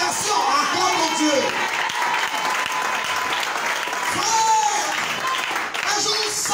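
A church congregation applauding during a sermon, steady dense clapping that fills the whole stretch, with voices from the crowd and talking mixed in over it.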